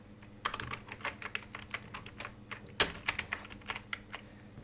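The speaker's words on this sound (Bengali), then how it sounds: "আমরা কিন্তু ট্যাব প্রেস করছি" Keys tapped on a computer keyboard while filling in a database form, a quick irregular run of close clicks with one sharper, louder press near the middle, with no voices.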